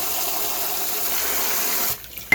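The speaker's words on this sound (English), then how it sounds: "I use warm water." Steady warm tap water pours for about two seconds while rinsing oxtail in a pan, then stops, followed by a couple of small clinks.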